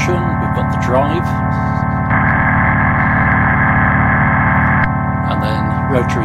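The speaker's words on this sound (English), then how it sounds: "And then if you want a bit of distortion, we've got the drive." Sustained organ chords from a Halion 6 virtual instrument with drive distortion, a gritty, overdriven edge that thickens in the middle, played steadily with no voices.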